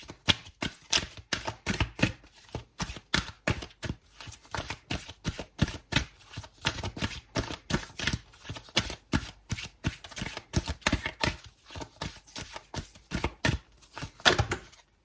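Tarot cards being shuffled and drawn during a yearly reading, giving a long run of quick, close papery riffles and flicks in steady bursts, with no talking.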